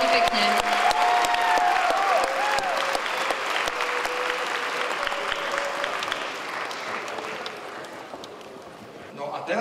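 Hearty audience applause for a Lord of the Rings cosplay group at a convention, loud sustained clapping that slowly thins out while an announcer's voice carries over it.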